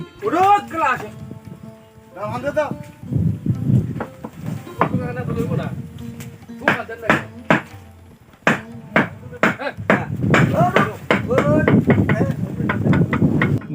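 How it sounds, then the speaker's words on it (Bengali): Hammers drive nails into a large 95-cubit wooden boat being built in a muddy open field. Sharp irregular blows ring out, sparse at first and then quicker, under steady narration. "বৃষ্টি কাদা কিছুই থামাতে পারেনি তাদের হাতে থাকা হাতুড়ির গুতি"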